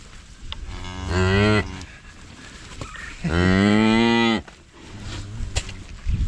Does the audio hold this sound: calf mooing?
yes